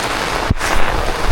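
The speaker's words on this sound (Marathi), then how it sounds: "जोर वाढला आहे पावसाला" Heavy rain in a Konkan village, a dense continuous hiss of downpour close around, with a brief thump and a short dip partway through.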